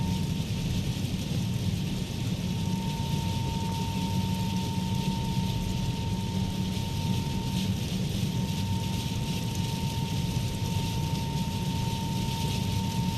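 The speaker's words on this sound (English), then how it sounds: "Heavy rain." Heavy rain in Microsoft Flight Simulator, a steady loud hiss of rainfall over a constant engine drone from an A21N airliner on approach to Sint Maarten, unbroken throughout.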